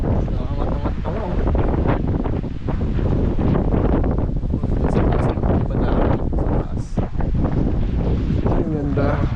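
Strong wind buffets a small camping tent, a continuous loud roar with flapping gusts, close to the microphone, with people talking underneath.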